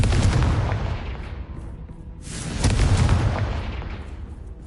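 A Confringo fire-spell explosion in Hogwarts Legacy booms twice, a heavy rumbling blast followed by a second burst that swells and then fades, with no talking over it.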